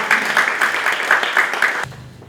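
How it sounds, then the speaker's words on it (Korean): Brief applause from an audience at a Korean gathering welcoming the director Song Seung-hwan, a short burst of clapping that stops abruptly, leaving quiet room tone. "송 감독님을 큰 박수로 부탁드립니다."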